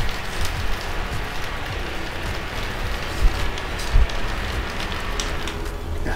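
A Claymore Fan V600+ portable camping fan runs on its fourth, fastest speed setting, making a steady, close airy whoosh like rushing wind, with a couple of brief low bumps.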